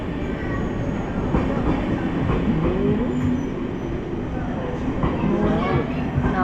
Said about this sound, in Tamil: நம்ம ட்ரெயின் வந்துருச்சுங்க.